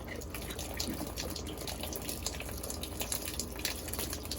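Tap water runs steadily as something is rinsed off under the stream, a continuous close splashing wash at a constant level, with no one talking.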